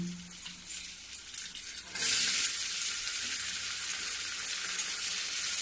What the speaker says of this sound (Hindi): तो देखो मैं प्याज डाल दी हूँ, प्याज को मैं थोड़ी देर भूनूंगी।